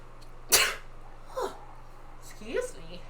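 A single sharp sneeze bursts out close to the microphone, followed by two softer vocal sounds from people nearby.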